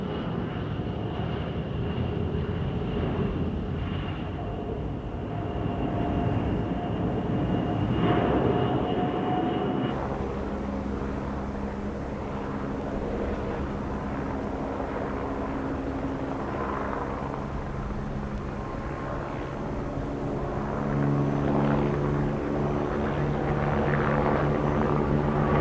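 A propeller firefighting aircraft, a water bomber able to drop 12 tons, flies past at the Paris Airshow, its steady droning engine and prop hum loud and sustained, with a shifting tone as it passes and no talk.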